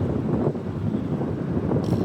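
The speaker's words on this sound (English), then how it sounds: "it got pretty windy out there and cold" Steady wind buffets the microphone outdoors on a cold, blustery day at an RC crawler course, a continuous broadband rush with slight gusts and no talk.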